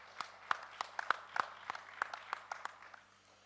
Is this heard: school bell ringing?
no